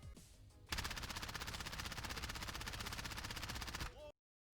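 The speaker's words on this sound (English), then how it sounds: "So we'll go over the spray pattern of the MP7 next." MP7 submachine gun in the Modern Warfare video game, firing one long, rapid automatic burst of about three seconds that starts after a brief quiet moment and cuts off abruptly.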